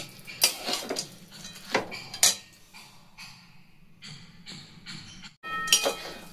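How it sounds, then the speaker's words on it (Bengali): Boiled vegetables, including cauliflower stalks and leaves, being mixed in a pot, giving scattered metallic clanks and scrapes of a utensil against the pot, close and moderately loud, with quieter shuffling between strikes. "এবার এগুলোকে মিশিয়ে নেব খুব ভালো করে"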